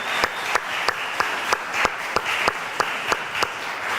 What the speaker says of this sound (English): let's give it a round of applause for all the people we're about to show